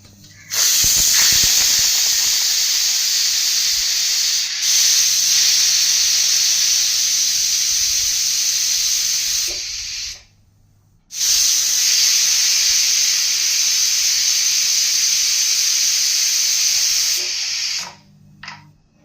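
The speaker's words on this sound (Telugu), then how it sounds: "ఇప్పుడు కుక్కర్ మూత పెట్టి విజిల్ పెట్టుకోవాలి త్రీ విజిల్స్ వచ్చేదాకా కుక్ చేయాలి" Pressure cooker venting steam while tomato dal cooks inside: a loud, steady hiss that runs almost unbroken, with a brief dip near five seconds, a full stop around ten seconds, then resuming and cutting off again near the end.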